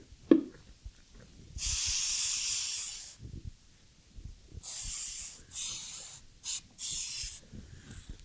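Cleaner sprayed into a Smith & Wesson Victory pistol, heard as several close hissing spray bursts: one long burst, then a run of shorter quick squirts with brief pauses between them.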